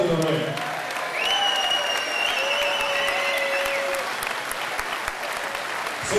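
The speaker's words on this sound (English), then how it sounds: "give a round of applause, the 2 warriors in the ring" A fight-night crowd applauds the two fighters in the ring after a bout, sustained applause with whistles and scattered cheers over it.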